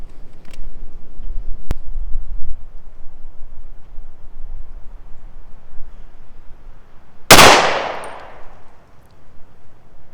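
One sharp pistol shot from a .38 Super handload cracks out with a short ringing decay. Before it, the background holds only a faint click and low ambient noise.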